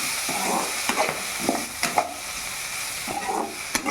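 Coconut pieces and herb leaves sautéed in a pan give a continuous sizzle with repeated short scraping stirs, close and clear.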